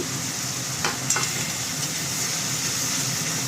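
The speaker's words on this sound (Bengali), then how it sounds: "দই দিয়ে এরকমভাবে নাড়াতে হয়, নইলে দইটা কেটে যায়" Whisked yogurt is stirred into a hot pan of frying spices with sugar, producing a steady loud sizzle and hiss, broken by a few light scrapes of the spoon against the pan.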